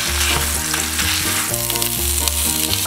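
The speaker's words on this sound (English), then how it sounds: "It's the sound of cooking." Ground beef sizzles in coconut oil in a pan, a loud, steady frying hiss with no talking.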